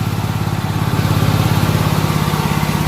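A Hobart generator's engine runs at a steady, loud throttled-up drone with a fast, even pulsing beat, heard alone without talk.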